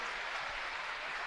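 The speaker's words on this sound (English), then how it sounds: "And she'll get a nice round of applause here from the Forrest fans as Connell will check back in." Crowd of fans at a high school basketball game, Forrest vs. Grundy County, applauding as a senior player exits the court; steady, dense applause fills the gym throughout.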